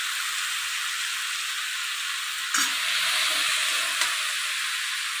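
Potatoes with a little turmeric sizzling in hot oil in a pan for Bengali aloo posto, a steady bright hiss throughout with a sharper splatter as more goes in midway.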